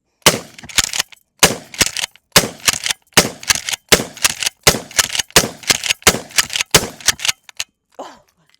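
A Mossberg 590 shotgun fires a rapid series of about a dozen loud, sharp blasts at close range, each with a brief echoing tail, then falls quiet.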